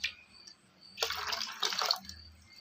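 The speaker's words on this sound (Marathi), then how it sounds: "आता ह्याच्यात आपण ना पाणी घालायचंय" Water poured into ground rice batter, a short splashing pour that starts about a second in and lasts under a second, close and fairly loud, with quiet room noise before and after.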